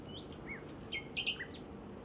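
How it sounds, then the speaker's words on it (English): A nightingale sings late at night, a series of short, clear whistled and chirping notes, faint and somewhat distant over a quiet, hissy background with nothing else calling. "But listen to that, it's late at night. There's nothing else really singing apart from the nightingale."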